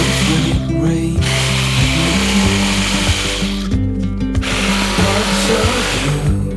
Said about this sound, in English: drill 4 holes in each corner with a 10mm drill bit, then insert the jigsaw and do the cutout